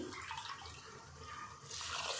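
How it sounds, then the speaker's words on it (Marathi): Water pours steadily into a cooking pot over basmati rice for a masala veg pulao, a close, continuous splashing and trickling rush that grows a little louder near the end. "मग पाणी घेते मी"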